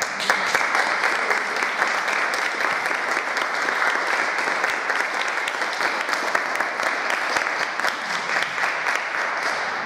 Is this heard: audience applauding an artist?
yes